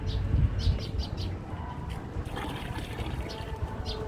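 Water trickles and splashes as it is poured over garden plants, fairly soft and steady, with birds chirping intermittently in the background.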